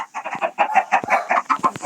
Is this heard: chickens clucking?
yes